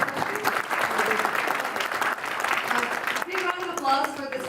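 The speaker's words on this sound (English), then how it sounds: "Big round of applause for the speaker" An audience applauds a speaker at an entrepreneurship club event: steady, dense clapping from a crowd, fairly loud, with voices and cheers rising through it near the end.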